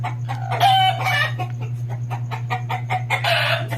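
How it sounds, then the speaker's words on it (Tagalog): A brooding hen sitting on eggs clucks and murmurs close by, with a few louder squawking bursts over a steady low hum. "Meron po tayong isa pang inahin na naglilimlim."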